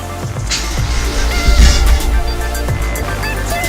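A Honda S2000 engine starting up and running after long disuse, its exhaust knocking against the spare tire; a loud, continuous low rumble with rattling transients throughout, no talking.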